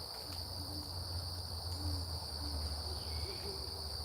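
A great horned owl hoots softly in dark, foggy woods, several low, evenly spaced hoots at a moderate distance over a steady whine of crickets and insects.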